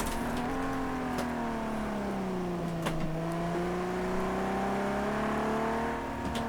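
A Ferrari engine in the racing game Project CARS 2 drones steadily as the car drives, its pitch dipping and then climbing gradually, loud and continuous with no talk.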